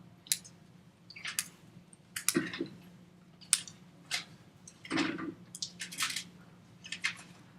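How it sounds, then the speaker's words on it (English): A whisk beats flour into melted butter in a pot for moussaka sauce, making soft irregular scraping and squishing clicks, close and quiet. "whisking that flour with the butter until it becomes the nice texture that you want"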